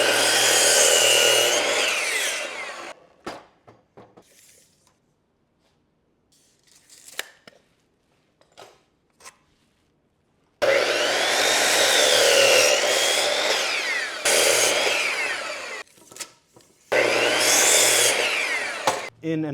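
A power saw cuts wood boards at 45 degrees for a chicken coop base, three loud sustained whining cuts separated by quieter knocks and clatter as boards are shifted.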